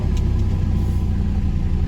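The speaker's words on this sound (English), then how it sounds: "Start the car." A BMW E93 engine, just started, runs with a steady low rumble, close and loud, holding an even idle throughout with no voices.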